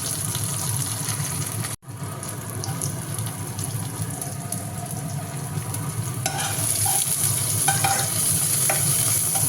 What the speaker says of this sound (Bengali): ঢেঁড়সটাকে ভেজে তুলে নিয়েছি, আর একটু ঢেঁড়স দিলে হতো, এরকম হালকা ভেজে তুলে নিয়েছি